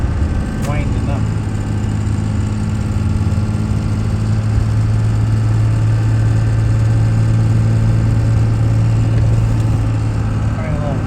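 A vehicle engine winds up steadily while accelerating in gear, a constant loud droning hum under wind and road noise lasting about eleven seconds.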